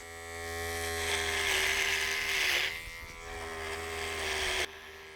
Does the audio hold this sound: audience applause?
no